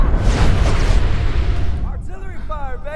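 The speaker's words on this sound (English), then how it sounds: "Artillery fire, baby!" Artillery fire booms and rumbles heavily for about two seconds on a battlefield near a river, then fades as a voice speaks over the tail.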